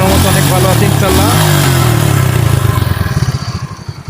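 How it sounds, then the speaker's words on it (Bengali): A Suzuki Gixxer Monotone motorcycle engine runs steadily and loud up close, its throbbing pulse turning more distinct and slightly fading toward the end, with a voice talking over the start. "বাইকের সাউন্ড কন্ডিশন আল্লাহর মতো অনেক ভালো আছে ইনশাল্লাহ"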